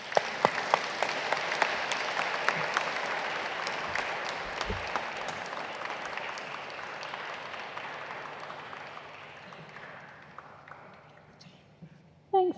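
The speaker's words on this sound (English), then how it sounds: "Let's give Freya a massive round of applause" Audience applause for a poet at an anthology launch night, a warm, sustained round of clapping with a few sharp claps up front, slowly tapering off before a voice briefly starts.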